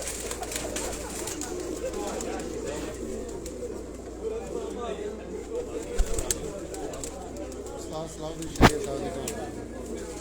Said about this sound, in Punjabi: ਇਹ ਜੀ ਉਸਤਾਦ ਸਲਾਹੁਦੀਨ ਸ਼ਹਿਰੀਆ ਸਾਹਿਬ ਹੋਰਾਂ ਦੇ ਘਰ ਦਾ ਕਬੂਤਰ ਹੈ ਜੀ।